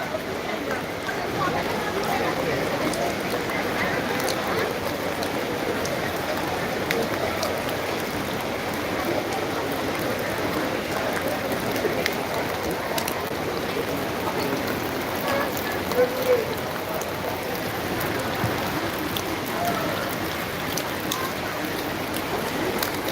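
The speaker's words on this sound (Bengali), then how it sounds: "এখনো বৃষ্টি থামিনি দেখতে পাচ্ছেন" Steady rain pours down in a constant hiss and patter on surfaces at Belur Math during Durga Puja, with occasional faint voices underneath.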